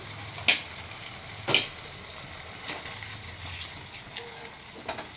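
Spice paste with ground cashew and raisins being fried and stirred in oil in a pan for a vegetarian chhena kofta curry, a soft steady sizzle broken by a few sharp scraping clinks of the spoon.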